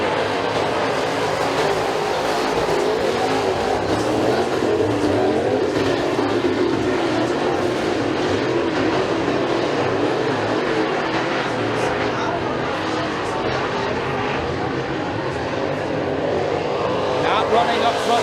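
Race cars roar around the dirt track at McKean County Raceway during heat races, a continuous engine drone from the field under steady commentary.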